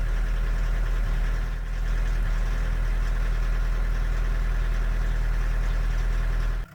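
A Volkswagen diesel engine swapped into a Chevy S10 pickup idles steadily and loudly up close, with a constant low rumble and rapid rhythmic clatter that runs unbroken until it cuts off at the very end.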